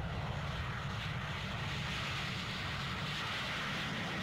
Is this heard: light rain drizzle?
no